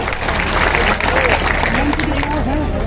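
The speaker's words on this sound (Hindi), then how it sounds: "एक बार उनके सम्मान में जोरदार तालियां मित्रों" Crowd at an outdoor political rally in Etawah claps loudly and steadily throughout, with murmuring voices and a faint melodic tone mixed into the dense applause.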